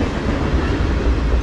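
A CSX manifest freight train rolls past close by, a dense, loud, continuous rumble and roar of rail cars with no talk.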